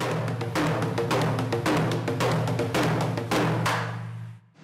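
Traditional Korean drums played by a dance ensemble, with a fast run of resonant strikes over a low droning tone, moderately loud, fading out at the end.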